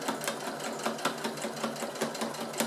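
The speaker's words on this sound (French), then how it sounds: "on est parti pour la première couture" A sewing machine runs a first seam along piping on a fabric sewing storage mat, its needle pattering in a fast, steady rhythm, close and continuous with no voices.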